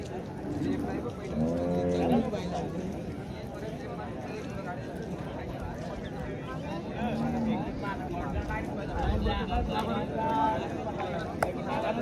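Deep lowing from bulls, heard twice amid ongoing outdoor chatter and general crowd noise at a bullock cart race.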